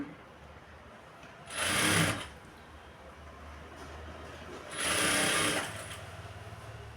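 A sewing machine stitches a lining blouse in two short bursts, each about a second long, with a quiet pause between them.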